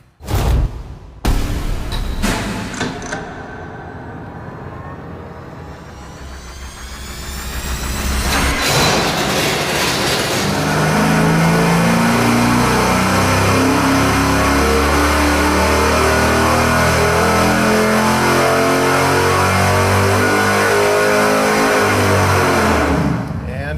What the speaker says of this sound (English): we got the 410 hung on the dyno